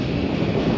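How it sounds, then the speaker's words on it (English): Strong wind in Alaska buffets the microphone in a constant, loud roar with no pauses. "Quite windy, but that's all right."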